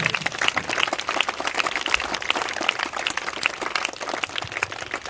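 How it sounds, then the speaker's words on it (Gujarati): A crowd claps steadily at a primary school Independence Day prize giving, a dense, even patter of many hands that holds at a constant level from start to finish. "જોરદાર તાળીઓથી વધાવી ભાઈ."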